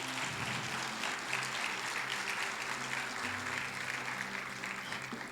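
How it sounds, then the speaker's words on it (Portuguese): A church congregation applauds during a Portuguese-language sermon, with a sustained, dense wash of clapping from many hands filling the room for several seconds without a break. "Você pode aplaudir o Senhor por isso?"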